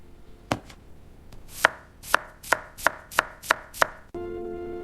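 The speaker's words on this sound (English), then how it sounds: "I cut the potato." Knife chopping through a potato on a board: about eight sharp, evenly spaced cuts, close and clear, with no voices.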